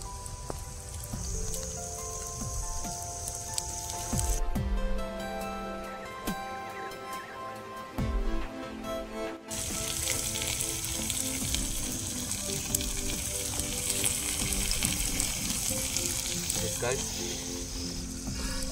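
Pigeon meat sizzling and frying in a pan for a spicy village-style pigeon fry, a continuous hissing crackle that holds steady throughout, fairly close, with a brief shift in tone midway.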